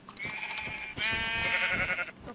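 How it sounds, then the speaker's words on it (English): Several sheep bleat in a blocky sandbox video game, a run of nasal cries rising into one long, loud, wavering bleat that fills most of the moment, with no talk over it. "there's a ton of sheep over me"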